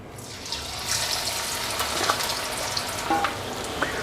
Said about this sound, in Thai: พอน้ำมันเริ่มร้อนครับ ผมก็ใส่ หมูของผมลงไปทอดเลยนะครับ